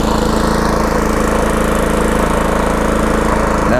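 A lawn mower engine idling steadily as it warms up after starting, a loud, close, continuous low rumble with an even pulsing throb and no speech.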